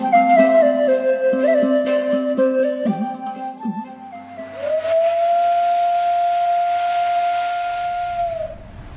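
A steam train whistle sounds as an effect in a radio drama of a Kolkata to Delhi rail journey, starting with wavering tones and settling into one long sustained hoot that fades out.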